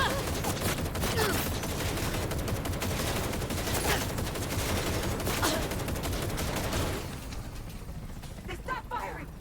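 Sustained gunfire from the video game Cyberpunk 2077 in an assault-team firefight, dense overlapping shots and bursts rattling loudly for several seconds before easing off into quieter scattered noise.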